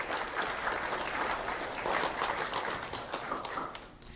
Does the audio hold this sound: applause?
yes